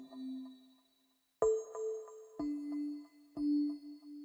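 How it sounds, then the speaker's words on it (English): Bell pattern from the Flex synth plugin in FL Studio, a clear struck-bell tone followed by three evenly spaced bright bell hits, each ringing out with a long sustain, clean and alone. "one of my favorite patterns, which is the bells"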